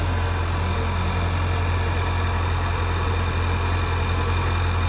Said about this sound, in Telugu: ఇంజన్ కూడా స్టార్ట్ అయింది